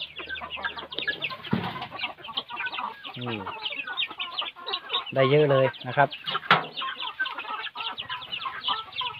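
Chickens cluck and squawk busily at close range, a dense flock chattering throughout, with someone speaking briefly over them while they are fed fly larvae.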